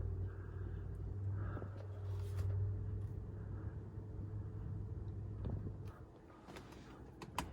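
A Rolls Royce car pulls away in drive, with a low, steady engine rumble heard from inside the cabin at moderate level. A few faint clicks and knocks sit over the rumble, which eases off slightly toward the end.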